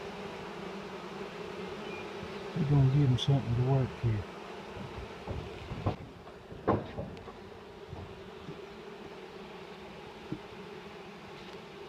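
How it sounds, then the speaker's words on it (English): Honey bees from a newly hived swarm hum steadily and close while frames are handled, their buzz swelling briefly as someone talks over it. "And we see there's several frames of bees down there."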